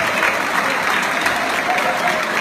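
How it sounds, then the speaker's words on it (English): A crowd at an air show reception dinner ceremony applauds with dense, steady clapping that fills the whole moment at close range. "So let's give him a great round of applause."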